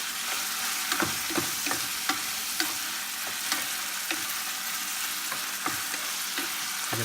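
Eggplant, potatoes and tomatoes stirred in a frying pan, with a steady sizzle under repeated scraping strokes of a utensil at a roughly regular pace, close and moderately loud.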